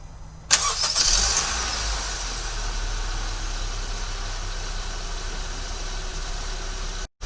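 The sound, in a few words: Honda HR-V engine remote starting and idling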